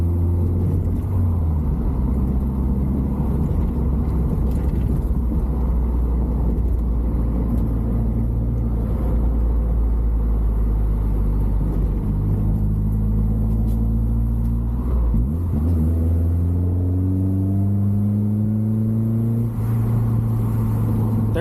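Car driving a backroad in third gear: loud, continuous engine drone from inside the cabin, with pitch rising and falling as the driver accelerates and eases off, dipping briefly mid-way before climbing again.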